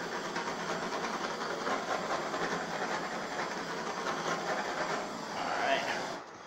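A torch flame is played over a poured ink and resin art piece, giving a steady, even roaring hiss that swells briefly near the end.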